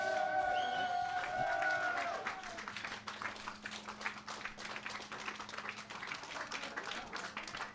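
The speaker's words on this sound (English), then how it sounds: "So again, make a noise, applause for Stefan." A crowd applauds at the European Cableski Championships after a skier's run, scattered clapping and some cheering that carry on under a brief tonal announcement at the start, then continue less densely.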